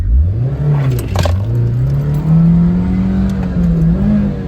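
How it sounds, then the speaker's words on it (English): Daihatsu Terios pulling away hard from a standstill, its engine note climbing steadily through the revs in one continuous, loud acceleration heard from inside the cabin. "I'll show you guys some more acceleration before we end this video, straight from a dig."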